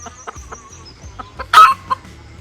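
American game fighting chickens on an off-grid homestead cluck in short, scattered bursts nearby, rising to one louder, harsher squawk midway before settling back to soft clucks.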